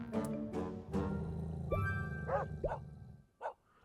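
A dog in a video game barks several times in short, sharp bursts, fairly close, with a few separate yips spaced out toward the end and no talking.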